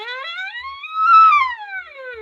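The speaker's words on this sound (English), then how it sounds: "it also means that we can do things like a glissandi" A trumpet played with half valves slides smoothly up in pitch and back down in a continuous glissando, one clear sustained tone heard alone and close.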